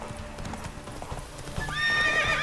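Roach, a horse in The Witcher 3, gallops during a race with rapid, steady clip-clop hoofbeats, and a loud neigh or whinny comes near the end.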